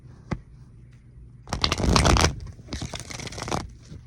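A deck of tarot cards being shuffled up close, a brief tap followed by two bursts of riffling and flapping cards, the first louder and longer than the second.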